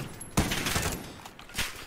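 Automatic gunfire rattles in Call of Duty Warzone, two bursts of rapid shots, loud and close.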